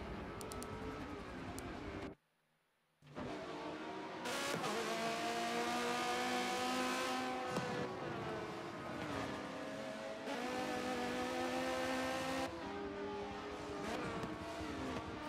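Race cars in a GT championship racing video game, engines revving and shifting through gears with rising and falling tones, loud and continuous except for a brief silent gap near the start.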